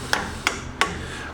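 Three evenly spaced, sharp metallic hammer taps seating an axle part into a Dana 44 axle housing in a garage, close and fairly loud with short ringing decay.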